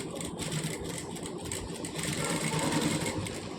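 A sewing machine stitches blouse pieces in a steady, continuous mechanical whir that runs close and fairly loud throughout, with no speech over it.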